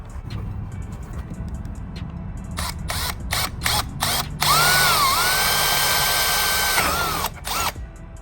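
Power drill boring holes for a carbon fibre ram air intake on a Sea-Doo 300/325 RXP-X, short trigger bursts first, then a loud sustained whine that bends in pitch under load, close by.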